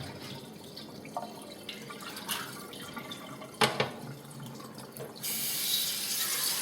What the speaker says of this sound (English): You might notice that I'm not using any soap to wash the dish that I'm going to use to make the popcorn in.